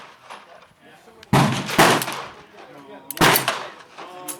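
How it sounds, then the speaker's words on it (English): Two sharp, loud pistol shots from a Beretta 92FS firing 130-grain round-nose cast lead bullets over 4 grains of Red Dot powder, about two seconds apart at an outdoor 25-yard range, with faint talk in between. "We'll fire 10 more shots at the target."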